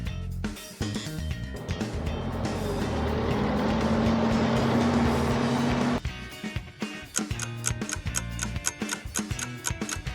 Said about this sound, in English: This is the sound of a wheel loader.